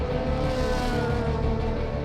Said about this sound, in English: My favorite sound when the car is leaving the pits.